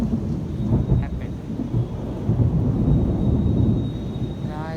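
Thunder rolls through a Hyderabad monsoon storm, a low, continuous rumble that swells and fades over a few seconds, with rain noise beneath it.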